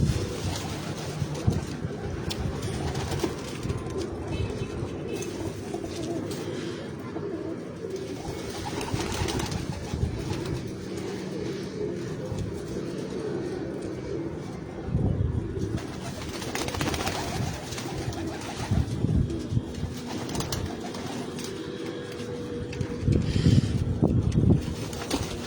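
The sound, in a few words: Sialkoti pigeons cooing on a rooftop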